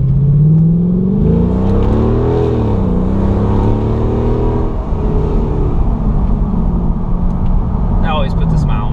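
Pagani Huayra sports car engine accelerating and revving on an open road, a loud, close, droning tone that swells and dips in pitch across repeated pulls.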